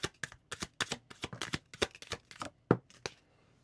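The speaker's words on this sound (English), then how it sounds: "we'll get some oracle cards, some love oracle cards from Spirit" Love oracle cards are shuffled by hand in a quick run of crisp riffling slaps and flutters, close and clear with no talking.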